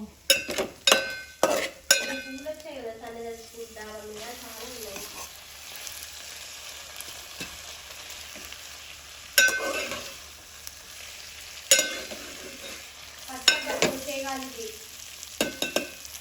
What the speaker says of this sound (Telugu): ఇప్పుడు మనం దీంట్లో నూడిల్స్ వేసుకుందాం